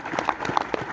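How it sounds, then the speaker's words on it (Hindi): An audience at a commemorative gathering marking a 102nd birth anniversary claps in a brief, fairly close patter of individual handclaps, uneven and sparse, with no voices. "आप स्वयं एक प्रकार तालियां बजाकर स्वागत कर लें"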